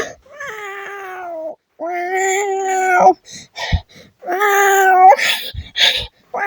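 A voice imitates a cat, giving drawn-out wailing meows, loud and close, with short breaths and clicks between the cries.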